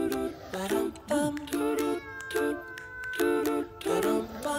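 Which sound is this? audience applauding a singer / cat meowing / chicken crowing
cat meowing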